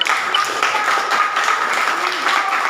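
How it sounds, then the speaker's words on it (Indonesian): Classroom applause for a student group at a high school lesson in Rote, a lively patter of clapping with some voices mixed in. "Itu berikan tepuk tangan untuk Serca dan teman-teman"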